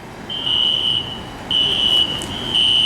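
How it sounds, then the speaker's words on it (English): A building fire alarm blares in repeated long, steady high-pitched tones with brief gaps between them, loud and continuous over a noisy indoor background. "Who pulled the fire alarms?"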